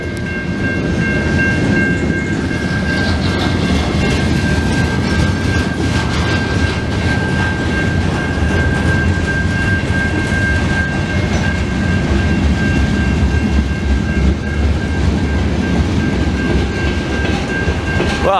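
A CN freight train rolls past on the rails in Montreal's St Henri borough in the evening, a loud, close, sustained rumble with steady wheel clatter and a high squeal running throughout.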